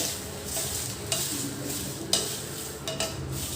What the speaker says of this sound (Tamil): இந்த சூடு பாத்திரத்துலேயே இருக்கிறதுனால நான் கிளறிட்டுருக்கேன்